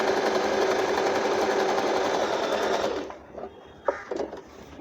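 A Usha Marvela automatic sewing machine, foot pressed on the treadle pedal, stitches in a continuous fast whirring run for about three seconds, then stops, leaving a few faint clicks.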